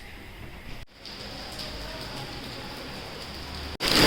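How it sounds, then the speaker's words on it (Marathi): Heavy monsoon rain falls outdoors in Mumbai, a dense steady hiss of downpour that stays loud and continuous throughout, with a brief break near the start and a louder burst at the end. "एकदम डेंजरस पाऊस पडतोय,"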